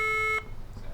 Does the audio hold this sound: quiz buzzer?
yes